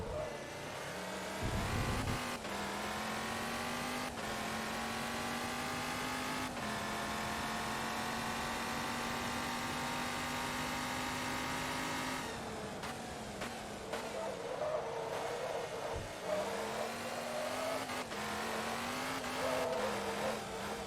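Race car engine in Forza Motorsport 2 revving hard and accelerating out of corners, steady loud whine with gear-change dips and brief tire squeal, close and continuous.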